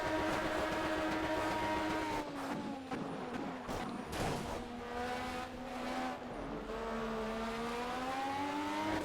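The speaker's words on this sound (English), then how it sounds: "Although I'm now bouncing off the rev limiter because of that." Race car engine in the Project CARS video game, an LMP1 prototype, bouncing off the rev limiter with a steady buzzing drone, its pitch dipping and climbing again, loud and close throughout.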